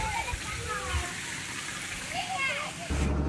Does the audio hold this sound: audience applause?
no